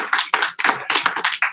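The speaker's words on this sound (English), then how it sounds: "Can I hear a hand clap for the Gen Xers?" An audience clapping hands in a steady, fairly quick rhythm of distinct claps at a pastors and leaders training session, close and clear with no talking.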